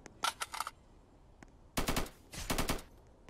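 Gunfire in the Roblox game Strucid comes in rapid automatic bursts: a short clatter of shots near the start, one lone shot, then two longer sharp volleys, all close and crisp against a quiet background.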